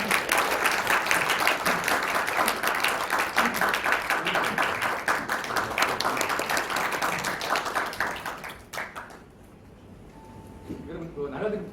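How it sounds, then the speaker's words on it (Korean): A large audience applauds to welcome a former vice minister to a business forum, dense steady clapping that fills most of the stretch before tapering off near the end, with some voices mixed in. "여러분 큰 박수로 맞이해 주시기 바랍니다."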